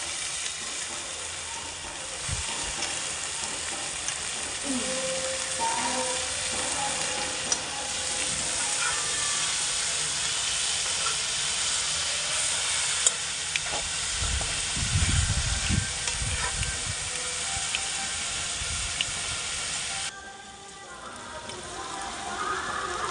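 Brinjal (eggplant) goes into a curry pan with turmeric and sizzles steadily for a long stretch. Scraping and stirring clatter swells midway, and the frying stays loud and close throughout.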